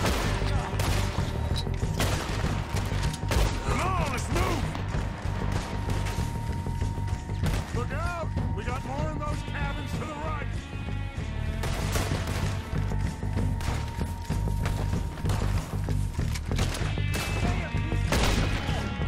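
Repeated gunfire from a Red Dead Redemption 2 shootout at the O'Driscoll mountain camp, with shots cracking steadily over a dense bed of game music and ambience, no clear pauses.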